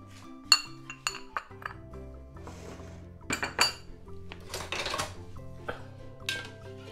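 A spoon stirs sugar and dry yeast into lukewarm liquid in a bowl, with a run of sharp clinks and taps of metal against the bowl, some louder strikes and softer ringing scrapes scattered across the stretch.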